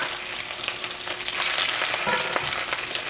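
Bacon frying in a pan with a loud, steady sizzle and fine crackle throughout, close up and continuous, with no voices.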